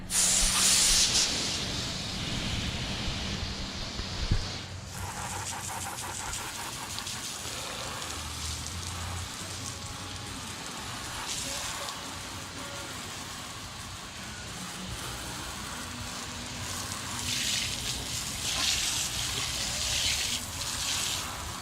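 Steady water spray hisses against a tire being rinsed off after a tire-paint job, starting with a loud close burst and then running as a continuous broad wash for about twenty seconds with slight variations in intensity.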